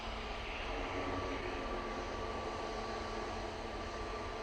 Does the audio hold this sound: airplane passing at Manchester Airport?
yes